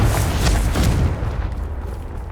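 A Confringo blasting spell bursts in Hogwarts Legacy, a deep booming explosion that hits loud at once and rumbles away over about two seconds.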